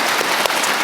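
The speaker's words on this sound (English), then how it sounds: "Go ahead if you want to applaud" An audience at an international insurance forum gives a brief burst of applause, dense steady clapping lasting under a second.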